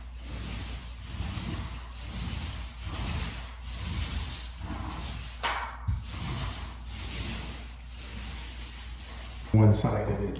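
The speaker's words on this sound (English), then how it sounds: "You can use these sanding blocks" A foam sanding block rubs in steady back-and-forth strokes, a soft, close, rhythmic scratching that pauses briefly partway through and ends with a louder knock, while a voice talks at times.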